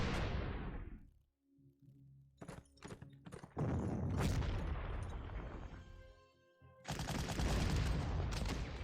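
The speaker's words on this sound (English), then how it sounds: "I draw artillery fire on the anti-tank." Artillery fire in the strategy game Panzer Corps: loud booming blasts with crackling bursts come in irregular clusters, separated by brief gaps, and end in a dense roaring barrage, with no talk over them.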